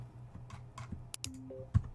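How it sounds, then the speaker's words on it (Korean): Close, crisp clicks from a computer mouse and keyboard while Ctrl is held, a few separate taps spread unevenly across two seconds with a quiet room behind them. "컨트롤 누르고 이번에도 얘를 클릭합니다."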